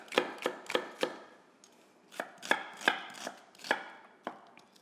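A knife slices small onions thinly on a board: about a dozen crisp, close chops in two uneven runs with a short pause between them, and no talk.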